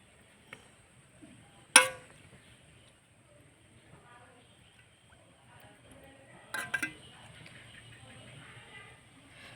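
A spoon clinks sharply against a bowl while milk malai dessert is served, two or three bright clinks standing out against quiet kitchen background with someone talking softly.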